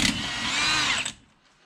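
A power tool spins off a 36 mm axle nut on a 2014 Chevy Impala, a loud close whine lasting about a second before cutting off abruptly.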